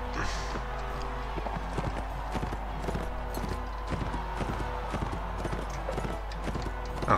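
A horse gallops in a medieval jousting video game, its hoofbeats a quick, steady clip-clop that runs the whole way through over a constant background of game sound.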